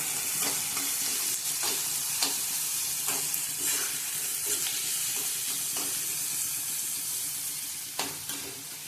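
Onion and green chili fry in oil in a pan with a constant bright sizzle, punctuated by repeated sharp stirring scrapes and taps of a spoon, close and without talk.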